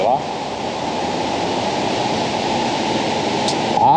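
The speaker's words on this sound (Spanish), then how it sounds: "el río, miren, el río contaminado" A polluted river by an abandoned spa at Oblatos rushes in a loud, unbroken, hissing roar of flowing water that stays steady throughout and swells slightly at the end.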